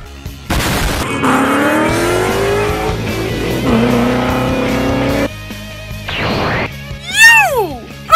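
A car accelerates away with a rising engine whine, a short squeal and a rushing burst, ending in a high swooping sound, all loud and close with no speech.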